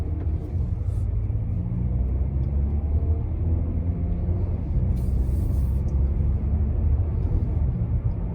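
A 2019 Mazda3 pulls out of a dealership lot, its engine and road noise forming a steady, loud low rumble heard from inside the cabin with no talking.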